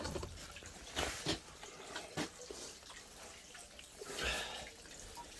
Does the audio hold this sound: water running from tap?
yes